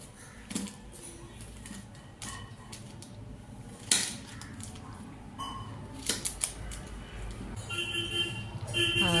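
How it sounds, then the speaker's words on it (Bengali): A knife cuts firm new potatoes into pieces for a Bengali home dish, giving irregular close knocks and taps on a board over a low steady background hum. "এখন আলুগুলোকে একটু পিস করে নিচ্ছি।"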